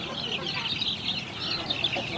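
Young purebred Siruvidai native chicks, about one month old, on a country-chicken farm cluck and peep continuously in high, overlapping chirps, moderately close, with no talking.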